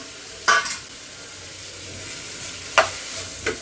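Carrots and beans fry in a pan with a soft, steady sizzle, broken by two or three louder scraping stirs of a spatula, close and without talk.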